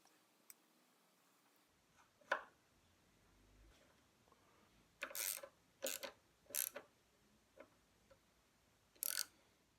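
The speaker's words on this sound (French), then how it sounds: "Et puis là, deuxième tentative de taraudage." Hand-tapping a thread in metal produces faint, scattered clicks and scraping ratchet-like ticks at irregular intervals, several in a quick cluster, close-up in an otherwise quiet workshop.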